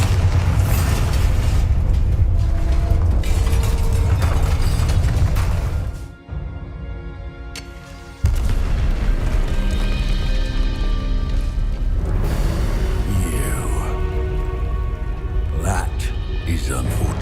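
The Bombarda spell in Hogwarts Legacy sets off a loud booming explosion amid dense game sound and music, with a brief drop in loudness before the roar resumes; a voice speaks during the clip.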